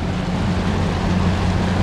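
A bass fishing boat idles on Lake St. Clair during a tournament, its low engine drone steady beneath wind and water noise, with no talking.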